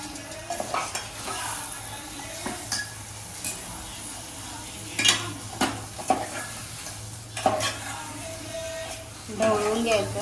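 Prawns in a spiced garlic tempering for an Agri Koli-style curry sizzle in a pan while a spoon stirs and scrapes in irregular bursts, with someone talking over the cooking.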